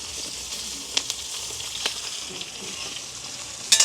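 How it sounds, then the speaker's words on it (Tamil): Sliced onions and green chillies fry in hot oil in a village kitchen, a close, continuous sizzle broken by a few sharp crackles and stirring scrapes, with no talk. "வட்டி வச்சிருக்கிற பச்சை மிளகாய் வெங்காயத்தை போட்டுக்கொள்வோம்."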